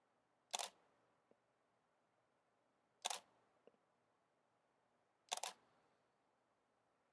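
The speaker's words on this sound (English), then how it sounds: "Now with this camera, I'm going to have to hit the shutter button 3 times." A camera shutter fires three times at even intervals of about two and a half seconds, each a sharp close mechanical click heard alone in a quiet room.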